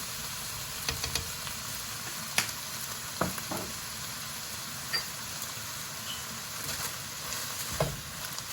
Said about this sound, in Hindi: इस वक्त हम इसमें सोया सॉस डाल रहे हैं, ये 3 टेबल स्पून।